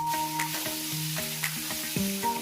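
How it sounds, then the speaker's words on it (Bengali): Prawns frying with pointed gourd in a pan hiss steadily under tuneful background music that largely covers the sizzle. "চিংড়ি মাছটা পটলের সাথে একটু ভেজে নেব"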